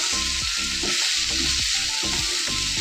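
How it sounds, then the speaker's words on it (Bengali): Potato pieces fry in oil in a pan after a temper of black cumin seeds and dried red chillies, giving a loud, steady sizzle broken by repeated scraping stirs. "দিয়ে আলুটাকে ভাজছি।"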